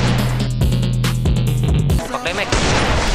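Video game explosions during a livestreamed custom-room match: booming blasts and rapid bursts, loud and close, layered over sustained tonal game sounds, with a dense burst of noise midway.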